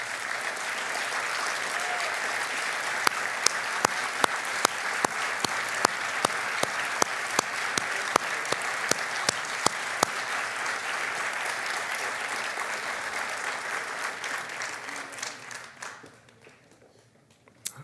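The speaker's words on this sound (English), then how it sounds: "Everyone give them a round of applause." A ceremony audience at a distinguished award celebration claps for honorees in sustained, full applause, with a few sharp nearby claps standing out, before the clapping thins and fades out near the end.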